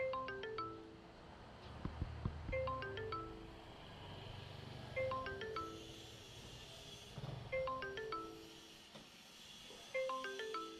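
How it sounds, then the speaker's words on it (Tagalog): A doorbell chime rings in a repeating descending melodic pattern, played several times in a row, faint and slightly distant, pressed by a delivery rider at a customer's door. "may kasabay akong rider at siya na rin talaga ang tumawag at na doorbell."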